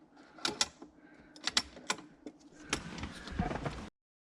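A magnetic socket drives a bolt into the gauge pod of a Ferrari 308, giving a run of close, sharp metallic clicks and ratcheting ticks in irregular bursts with small handling clatter between them, no voice present.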